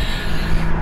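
A 2019 Morgan Plus Six with a Supra engine surges under acceleration, a steady, loud, close engine drone with no talk over it.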